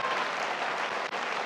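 A crowd at an Indian fan meet for the film Rockstar applauds continuously in a dense, fairly loud wash of clapping, with a brief dip near the end.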